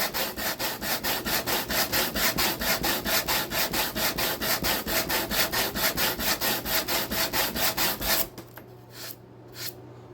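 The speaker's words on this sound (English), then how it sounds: "So I'm just gonna sand this a little smoother." Rhythmic back-and-forth sanding on a wooden landing gear part for a model plane, a steady scratchy stroke roughly every quarter second, close and loud, stopping near the end with a few faint rubs.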